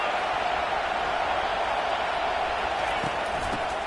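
A loud football stadium crowd roars in a dense, continuous wash of cheering and noise as the home fans try to help their defense, steady and unbroken throughout.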